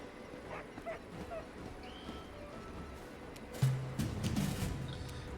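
A puppy in a tabletop fantasy game whimpers and yips, thin high cries over a busy background of ambient noise, with a louder burst of yelps near the end.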